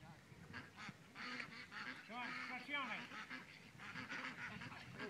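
Ducks and geese quack and honk in a noisy, overlapping chorus close by, with repeated calls throughout; a few faint voices are mixed in beneath the birds.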